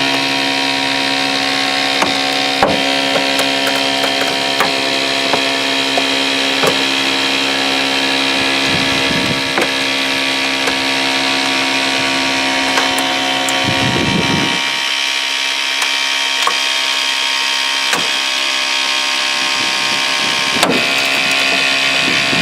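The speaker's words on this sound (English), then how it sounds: "we are now able to spread that hinge apart." A hydraulic rescue tool spreads a vehicle door hinge apart with a loud, continuous droning whine, broken by occasional cracks and creaks of straining metal.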